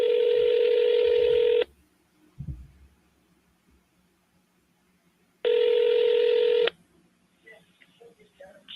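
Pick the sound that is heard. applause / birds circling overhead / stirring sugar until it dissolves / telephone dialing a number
telephone dialing a number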